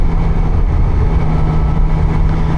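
Triumph Daytona 660 A2 sport motorcycle engine droning steadily while riding on a road, a loud, close, continuous hum with no speech.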